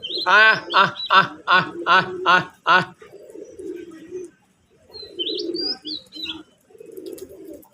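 Desi pigeons on a pigeon farm, with bright chirps and soft coos close by. A loud, rhythmic voice dominates the opening seconds.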